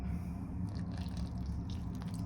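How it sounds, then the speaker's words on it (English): A little water is poured into a bowl of cornstarch for a kitchen experiment, giving soft drips and trickles over a low steady hum, close and quiet, with no speech. "I'm going to take my water and I'm just gonna pour in a little bit"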